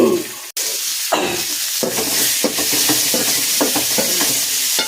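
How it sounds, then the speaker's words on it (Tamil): Tomatoes sauté in a sizzling fish curry masala for a mango and sardine curry, a loud steady fry broken by repeated scraping stirs of a spoon against the pan, close and continuous. "தக்காளி போட்டு வணக்கிட்டோமா,"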